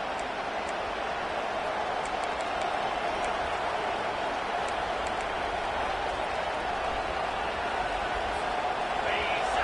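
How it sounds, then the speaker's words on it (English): A stadium crowd at a college football kickoff between the Gamecocks and their visitors keeps up a loud, continuous roar, with a commentator's voice running over it. "This crowd bringing an ear-splitting welcome to their visitors"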